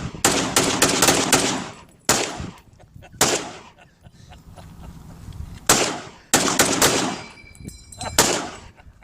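M1 Garand rifle shots fired outdoors in the desert, loud sharp cracks, first in a quick burst of several rounds, then single spaced shots, and another quick cluster near the end.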